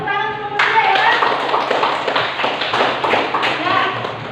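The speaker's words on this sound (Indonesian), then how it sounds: "Ya, tepuk tangan untuk kelompok 3 ya." Classroom applause for a student group, a dense burst of clapping that starts abruptly after a brief voice and continues steadily with overlapping talk and cheering.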